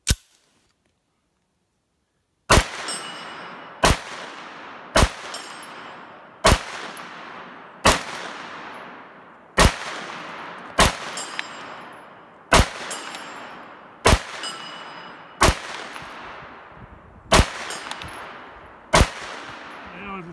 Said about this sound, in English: Try to see how I do with a rapid fire at that distance. Bolt's got to close.